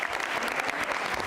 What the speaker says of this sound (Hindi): दीक्षा जी के लिए तालियां जोरों से बजाइए